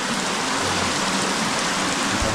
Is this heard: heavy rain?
yes